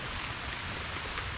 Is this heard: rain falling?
yes